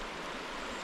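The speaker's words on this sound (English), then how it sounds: "Our first creek crossing on the Magruder Corridor." ATV fording a creek on the Magruder Corridor in Idaho, with a steady, loud rush of splashing water filling the whole moment and no voices.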